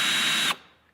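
A Ryobi cordless drill runs at a steady high-pitched whine for half a second, then cuts off abruptly and winds down quietly.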